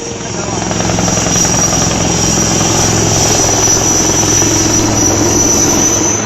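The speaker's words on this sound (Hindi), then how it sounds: "काफी देर तक हेलीकॉप्टर नदी के ऊपर उड़ता रहा।" An Air Force helicopter hovers over a river during a flood rescue, its rotor roar loud, steady and unbroken throughout, dense and close.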